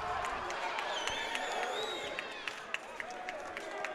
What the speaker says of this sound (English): you're hearing more and more energy coming from the crowd that is here